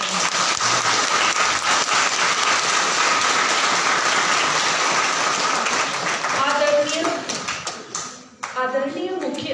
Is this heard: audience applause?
yes